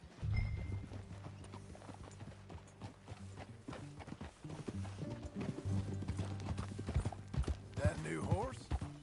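Horse hooves clip-clop steadily at a riding pace in Red Dead Redemption 2, with a brief neigh near the end and a low ambient game background, fairly quiet overall.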